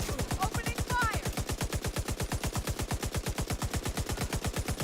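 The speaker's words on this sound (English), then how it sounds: "Opening fire!" Rapid sustained automatic gunfire from a video game, a fast even stream of sharp shots like a machine gun, loud and unbroken, with a brief voice and other game sounds near the start.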